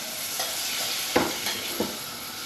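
Squid rings frying in a pan for Spanish tapas, a steady broadband sizzle with a few brief louder crackles and stirring scrapes over the constant hiss.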